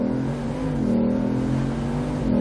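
A Bugatti Veyron 16.4 Grand Sport Vitesse accelerating hard past other cars on a freeway on-ramp, its engine note rising in a loud, steady, close roar that climbs through the gears without a break.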